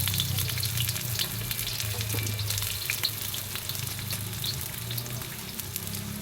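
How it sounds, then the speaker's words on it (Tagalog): Onions sautéing in a pan at a campsite, a dense, steady crackling sizzle with a low background rumble, heard close and without talk. "Kasi kailangan gisang-gisa yun."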